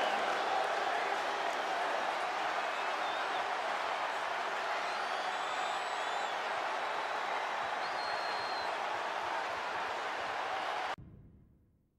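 Arena crowd noise from the WWE 2K22 wrestling video game, a steady broad roar of cheering that holds evenly at full strength for about eleven seconds before cutting out abruptly.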